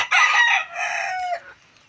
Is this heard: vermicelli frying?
no